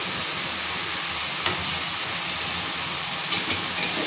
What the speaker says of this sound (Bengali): এটা আমি ভালো করে মিশিয়ে নেব।